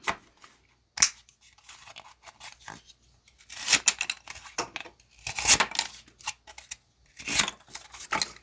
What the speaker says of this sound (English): let's cut some cardboard